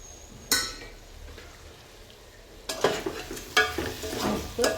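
Shahi masala being sautéed in a pan for Khandeshi masala bhat: a quiet sizzle and a sharp clink, then louder scraping and stirring with bursts of frying, no voices.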